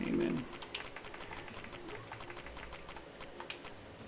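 Computer keyboard being tapped to type a name, a string of light, quick key clicks at a soft, close level with faint background noise.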